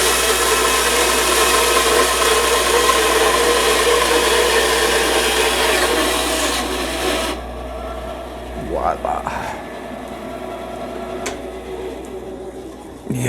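Wood cut on a table with a miter gauge guiding the stock: a loud, steady, broadband whirring roar for about seven seconds that then drops away, leaving quieter shop noise with brief faint knocks.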